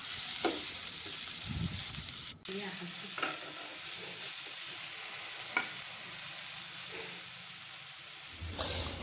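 Red amaranth greens stirred and cooking in a pan, giving a steady close sizzle with scattered scrapes and clinks of the spoon throughout; no voices.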